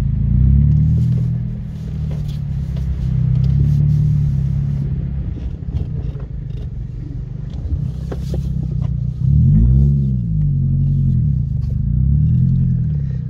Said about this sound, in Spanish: No se quejen del ruido del caño escape, es normal.